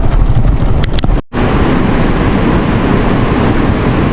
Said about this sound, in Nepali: बवाल हावा आउँदो रहेछ